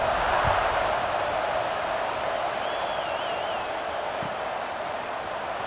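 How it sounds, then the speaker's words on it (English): A stadium crowd in the college football video game EA Sports College Football 26 keeps up a steady, loud roar after a score, a dense wash of distant cheering with a faint whistle-like tone in the middle. "this crowd is buzzing after that last score"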